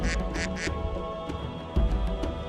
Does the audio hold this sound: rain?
no